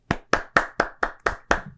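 Seven crisp hand claps in an even, quick rhythm, close and loud, imitating a football coach clapping on the sideline, with nothing else around them.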